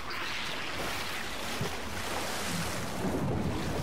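Swimming through sewer water in the Ratchet and Clank video game: a steady, full wash of watery churning and rushing noise fills the whole stretch, loud and continuous with no talk over it.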